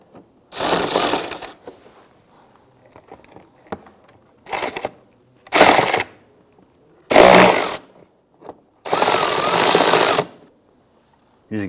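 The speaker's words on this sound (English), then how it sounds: "Using a 10mm socket, we're going to loosen and remove the 4 screws here." A power tool with a 10mm socket runs in five sharp, loud bursts of whirring, each a second or so long, separated by quiet pauses with faint handling clicks while screws come out of a 2008-2013 Nissan Rogue bumper.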